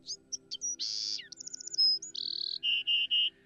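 Bird chirping sound effect from the Adventure Box game, a clear, close sequence of varied tweets, trills and whistled notes heard alone over a faint low hum.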